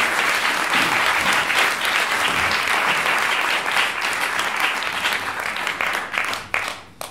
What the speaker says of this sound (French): je vous demande d'applaudir très fort Valérie Bienfaisant